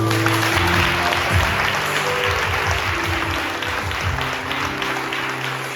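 A church congregation clapping for God during a Hindi service, sustained applause with a rhythmic low pulse, likely from musical accompaniment, running under it.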